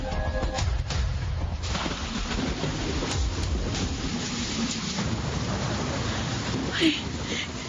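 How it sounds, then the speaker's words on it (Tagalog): Heavy rain pours steadily at night around a snack house, a dense broadband wash with faint rumbles, under drama dialogue and music. "Tuloy, inabot ako ng ulan."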